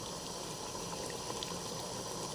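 Spicy Nellore-style mutton head curry bubbling in a pot, a steady, continuous simmering hiss with soft bubbling throughout, close and even, with no voices.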